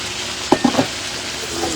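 Tomatoes frying in a pan for salsyado, a steady close sizzle with a few quick stirring scrapes in the middle.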